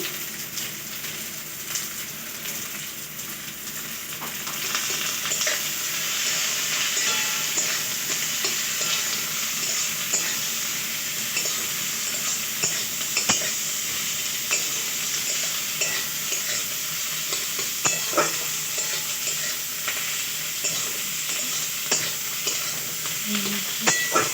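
Eggplant pieces fry in a pan of vegetable curry with a steady, fairly loud sizzle, and repeated scraping and stirring strokes continue throughout with no talking.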